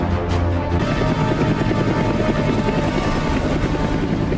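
A loud helicopter drones close overhead in a Mission: Impossible film scene, its rotor throbbing in a steady, dense roar throughout.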